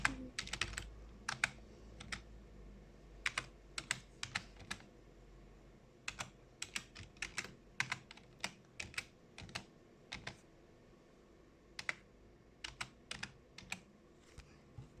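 Someone typing an email address on a computer keyboard, with quick bursts of crisp key clicks separated by short pauses, close and clear over a quiet room.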